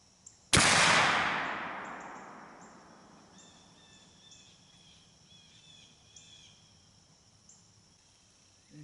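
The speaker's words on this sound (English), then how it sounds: "So we're going to fire a confirming shot and see if we're still on target" A muzzleloading rifle loaded with Blackhorn powder fires a single loud confirming shot at a 50-yard range, followed by a long fading boom and echo, then quiet outdoor ambience with faint chirps.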